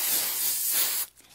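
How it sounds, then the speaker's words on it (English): Hairspray sprays from an aerosol can over a handmade hair bow in one continuous close hiss lasting about a second, then cuts off. "So you just want to spray over it."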